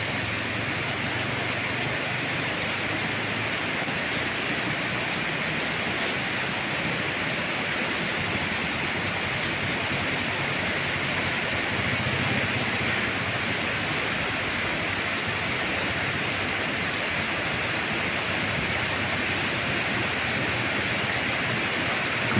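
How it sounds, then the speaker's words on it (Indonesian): Rushing water of the Batang Kuranji river near Padang, heard during a season of floods and landslides: a steady, loud, broadband roar running unbroken throughout, with no voices over it. "di sini namanya sungai ya, batang air Kuranji"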